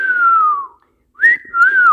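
A person whistles in imitation of a crying bird call circling overhead: a long, slowly falling whistled note, a brief pause, then a rising note that holds and wavers, loud and close.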